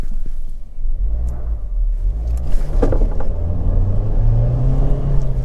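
Car with an Xtronic CVT brake boosting and accelerating, a loud steady engine rumble building through the run with a rising drone toward the end, no talk over it.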